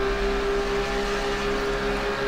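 A Porsche Cup race car at Le Mans in the iRacing sim holds a loud, steady engine drone with a strong tonal whine throughout, close and alone with no talk.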